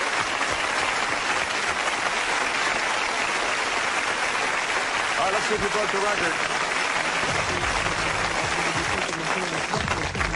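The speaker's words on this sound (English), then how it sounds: "How about a round of applause for the world's fastest court reporter?" A studio audience at a Guinness World Records TV show applauds steadily for a record attempt by the world's fastest court reporter, a dense, even wash of clapping that carries on for the whole stretch while a host talks over it.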